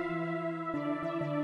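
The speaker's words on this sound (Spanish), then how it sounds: "El sonido principal está hecho con Citrus y solamente toco una nota." Sytrus synth in FL Studio playing a single held note that sounds as a wide chord with rich stacked harmonics, briefly retriggered a few times toward the end.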